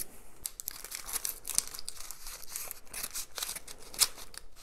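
Red scissors snip and tear through a paper credit card mailer at close range, with crinkling paper and sharp clicks in a quiet setting and no talking.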